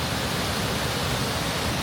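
Jiktang waterfall in Korea, a compact basalt falls, roars as a steady, dense wall of rushing water heard up close with no other sounds.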